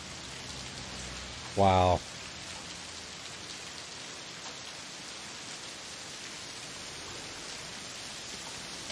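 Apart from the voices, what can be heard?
rain falling in a TV show scene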